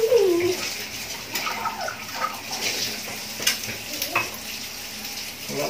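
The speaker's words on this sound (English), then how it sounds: "Now, I'm going to wash up my plate." A plate is washed up under running water in a kitchen sink, close splashing and rushing water with uneven clinks and swishes throughout.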